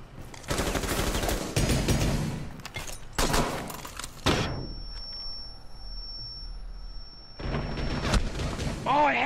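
Bursts of rapid automatic gunfire in a tactical shooter game, two sharp loud volleys early on, a pause with a faint tone, then more shots near the end, mixed with players talking over voice chat.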